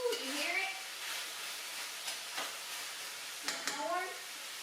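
Corn sizzling in a pan as it is stirred, with onions cooking alongside: a faint, steady hiss broken by occasional scraping stir strokes, under intermittent speech.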